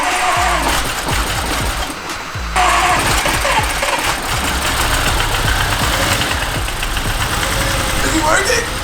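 Audi S7 engine running rough after being revived during a rebuild, a loud uneven idle with irregular knocking pulses throughout, briefly dipping near the start, with voices talking over it.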